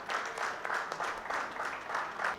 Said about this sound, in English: The audience, you all can join us in welcoming him with your warmest applause.